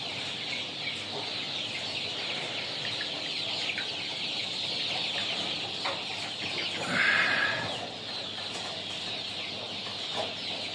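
Chickens and young chicks clucking and peeping on a poultry farm, a steady chorus of chirps with an occasional louder cluck or rooster-like call rising near the middle, no talk.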